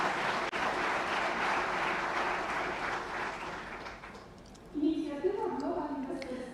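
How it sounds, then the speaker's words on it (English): An audience at an investment summit gives steady applause for several seconds, the clapping fading out before a few louder scattered claps and brief sounds near the end. "So once again, a round of applause for our leaders."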